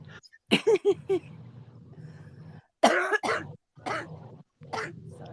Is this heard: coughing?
yes